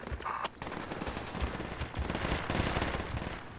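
Sustained automatic gunfire in Project Reality, a loud, dense rattle of overlapping machine-gun bursts with scattered shots continuing throughout, close and unbroken.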